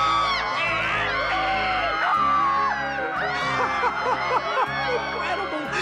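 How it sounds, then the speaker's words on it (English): Girls scream at a horror movie in a cartoon scene, several high voices shrieking and whooping loudly and continuously, overlapping one another with music underneath. "why do girls always scream at these drippy horror movies?"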